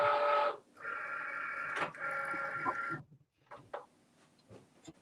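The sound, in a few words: cutting machine cutting glitter cardstock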